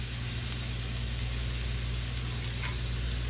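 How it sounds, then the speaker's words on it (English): Beef slider patty, salted and peppered, sizzling on a bed of onions on a hot flat griddle for Detroit-style sliders, a steady close hiss of frying without pause or talk. "Salt and pepper our patty, put it right on top of those onions."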